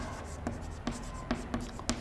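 A pen writes an equation on paper with a handful of short, close scratchy strokes spaced irregularly over a faint steady hum.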